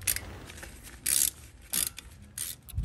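Brake caliper bolts being tightened on a 2016-2022 Honda Pilot during a front brake job, quiet short bursts of ratcheting clicks, three spaced clusters, close by with no talking.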